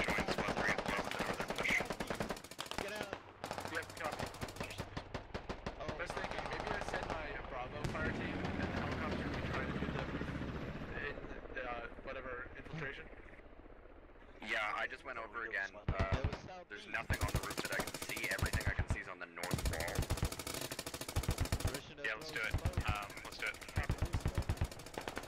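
Gunfire rattles through a Squad match on the Fallujah map, with rapid automatic bursts and single shots, some near and loud, others more distant, and voices talking over parts of the fighting.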